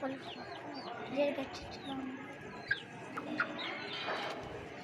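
Backyard hens, kept alongside chicks, cluck softly and steadily against a busy bed of chirping birds, with a few brief sharper calls standing out.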